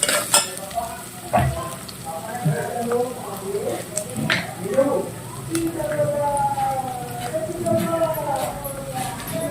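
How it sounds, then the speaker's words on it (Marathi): Chopped onion fries and sizzles in a pan as it is stirred until pink, a close crackling hiss with scraping stirs while someone talks over it. "कांदा गुलाबी होईपर्यंत भाजून घ्यायचा आहे छान परतून"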